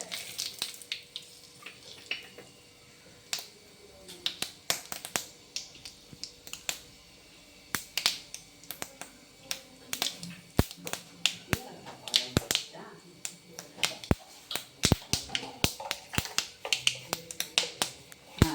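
Mustard seeds, fenugreek and cumin crackle and pop in hot oil for tempering a medicinal kuzhambu, with sharp irregular snaps scattered through the whole stretch and growing denser toward the end, close and fairly quiet.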